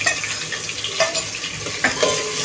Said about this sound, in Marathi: ती पण कांद्यासोबत परतून घेऊया.